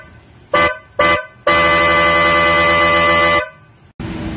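An Osun power horn, a high-pitch European sports car style horn for a car or motorcycle, blares loud and close: two short toots, then one long sustained blast, then another blast starting.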